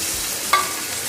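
Two medium chopped tomatoes hit a pan of frying onions, a steady hiss of sizzling oil with one brief scrape of stirring near the middle, close and alone.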